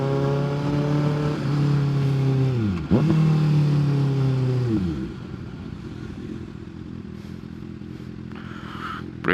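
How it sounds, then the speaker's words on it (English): A motorcycle's squeaky brakes squeal in a falling, tonal whine twice in a row, loud over the bike's engine and traffic at an intersection. "Brakes are squeaky as fuck."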